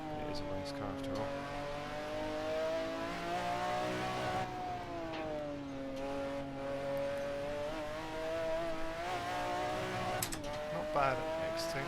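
A McLaren F1 GTR race car engine on the Nordschleife in Assetto Corsa drones steadily at high revs, pitch dipping and rising through gear changes, with brief clicks and squeals over it, close and continuous.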